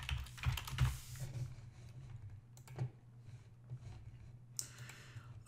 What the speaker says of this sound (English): you can also edit it in HTML mode by clicking text and typing your HTML